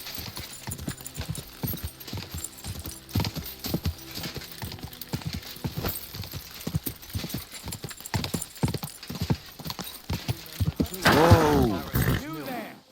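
Horse hooves clip-clop in a steady, rhythmic gait throughout the medieval video game Kingdom Come: Deliverance II, loud and close, with a horse whinnying near the end and game dialogue faintly underneath.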